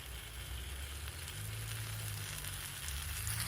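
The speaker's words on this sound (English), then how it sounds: "we're going to put it in the pan, and we're going to cook it until it's nice and golden brown on one side" An omelette parcel sizzles steadily in a hot pan, a continuous close frying hiss with low crackle that holds even and slightly swells toward the end, no voices.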